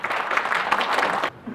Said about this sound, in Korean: 박수로 환영해 주시기 바라겠습니다